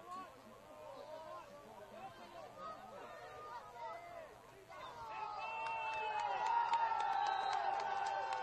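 Crowd at a high-school soccer game cheering for the Dragons, a broad babble of voices and whoops that swells louder in the second half, with chatter throughout.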